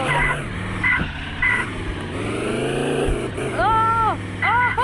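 In the Chicken Gun video game, a monster truck engine drones and whines while tires skid in short squealing bursts, with excited voices talking over it.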